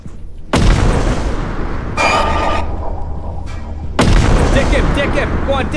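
A grenade blast in a first-person video game, a heavy boom that drops into a long rumbling roar, followed by further bursts and excited voices talking over the noise.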